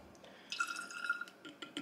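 A capful of cleaning liquid pours into a spray bottle, making a faint, close trickle and glugging drip for about a second, set against quiet room tone with a few small knocks.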